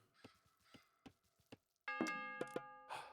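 In the strategy game Age of Mythology, a few soft interface clicks give way to a town bell that rings out with bright, ringing tones struck two or three times and left to decay, with no speech.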